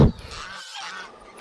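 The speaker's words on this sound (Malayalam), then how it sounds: "കാക്കകളുടെ പൂരപ്പെരുന്നാളാണ്" Crows caw around a nest area, a loose overlapping chorus of harsh calls that sounds moderately distant, following a brief loud thump at the start.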